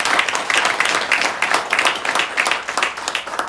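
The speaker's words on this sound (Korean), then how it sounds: "영광에 박수하겠습니다. 다시 한번." A Sunday-service congregation in a Korean church breaks into steady, dense applause that fills the room evenly from start to finish, with no talking over it.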